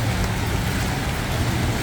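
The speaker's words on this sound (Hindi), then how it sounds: "बारिश फिर तेज हो गई" Heavy monsoon rain pours down near an elephant farm in Kerala, a loud dense roar of water with a low rumble beneath it and no voices, constant throughout.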